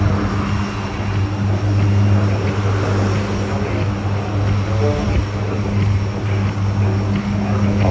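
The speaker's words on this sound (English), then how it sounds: "C-130J Hercules currently preparing for takeoff." An RAAF C-130J Hercules turboprop at Avalon Airport drones loudly and steadily throughout, its propellers and engines roaring in a constant, close hum as it powers up for takeoff at an airshow.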